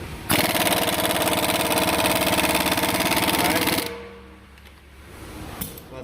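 A Matco MT2779 impact gun, rated 1600 ft-lbs, runs at full power in reverse: a loud, close, continuous rattling hammer for about three and a half seconds, then it cuts off, leaving faint background noise.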